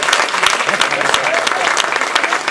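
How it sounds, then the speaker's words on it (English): Steady applause from a Toastmasters division humorous speech contest audience honoring the contestants, dense clapping filling the room throughout at even loudness. "Let's give a round of applause to all the contestants"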